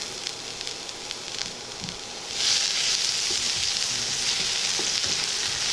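Ginger and garlic sautéing in a pan with cumin and red chili, a low crackle that swells into a louder, hissing sizzle partway through and holds steady; no one talks.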